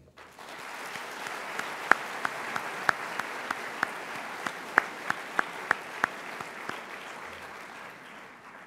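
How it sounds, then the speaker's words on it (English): An audience at the SINDA Excellence Awards 2010 applauds parents, a soft, even wash of many hands clapping with scattered crisp individual claps popping out near the front. "Let's honor them by giving them a rousing round of applause."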